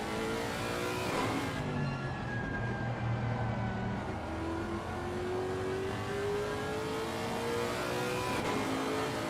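Simulated GT3 race car engine in Assetto Corsa Competizione at Spa-Francorchamps, a steady loud drone with rising and falling pitch as the car accelerates and shifts, continuous throughout with no talk.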